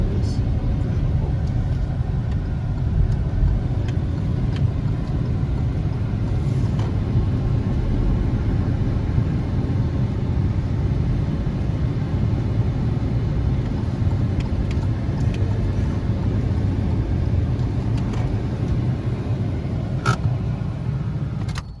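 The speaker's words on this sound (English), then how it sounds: "we'll try to find a place to park our car in the underground car park here" Steady low engine rumble of a car rolling slowly through an underground car park at a Luxembourg shopping centre, continuous and moderately loud with a few faint knocks and clicks.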